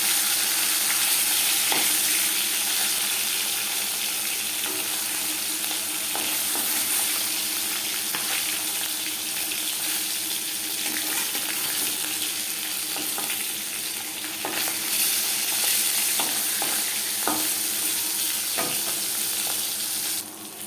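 Chela fish frying in a pan of oil, a continuous dense sizzle lasting about twenty seconds, with occasional sharp pops and clicks of utensils against the pan, no talking.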